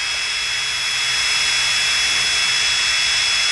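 A Makita TD172D impact driver runs freely at speed setting 3, a steady high-pitched electric whine held loud and close without a break, with no talk over it.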